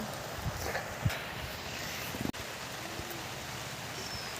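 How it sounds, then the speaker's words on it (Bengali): Heavy rain pours down in a steady, dense hiss that fills the whole clip, with a few sharp knocks and a brief thump partway through; no voices. "এখন প্রচুর বৃষ্টি এসছে জোরে বৃষ্টি এসছে"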